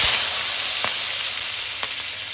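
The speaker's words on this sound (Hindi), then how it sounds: "और अब ये ऑयल गरम हो रहा है, इसमें डालूँगी मैं प्याज" Small onions frying in hot oil, a loud, dense, continuous sizzle with a couple of light ticks of a spoon.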